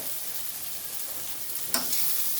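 Fish sizzles steadily in hot oil in a wok for a Bengali fish curry, a dense continuous frying hiss close by, with a brief clatter of a utensil stirring partway through.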